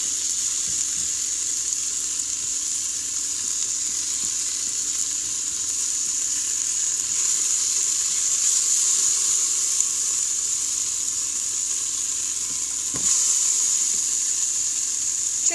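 Shahi jeera and regular cumin seeds sizzle in hot oil in an Instant Pot, a steady, even frying hiss that holds through the whole stretch with a small clink near the end and no talking.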